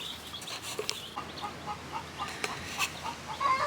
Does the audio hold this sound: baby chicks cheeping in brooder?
yes